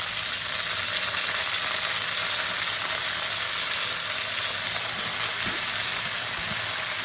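Eggplant and jasmine flowers frying in hot oil, producing a loud, dense, unbroken sizzle close up, with a faint low thump or two near the end.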